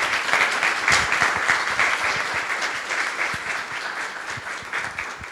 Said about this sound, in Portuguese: Uma salva de palmas para as nossas convidadas.